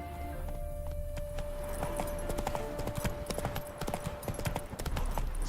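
Roach, the horse in The Witcher 3, trots with a steady rapid clip-clop of hooves, close and clear throughout over a continuous outdoor ambience and a faint sustained tone.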